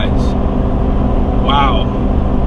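A lifted Chevy Silverado Trail Boss truck with 84,000 miles cruises at highway speed while towing a heavy load, a steady broadband road and engine rumble filling the cabin throughout, with a brief brighter whine midway.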